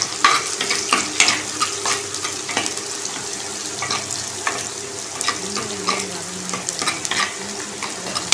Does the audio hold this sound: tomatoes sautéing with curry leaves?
yes